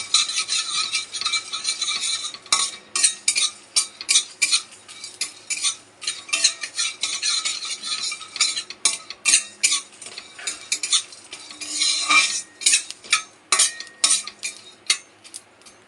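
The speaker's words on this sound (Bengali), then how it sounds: "হালকাভাবে একটু নাড়াচাড়া করব।" A spoon scrapes and clinks against a pan while spice masala for mutton curry is stirred, in a steady run of sharp, close scraping strokes with brief pauses and a faint sizzle underneath, no voice.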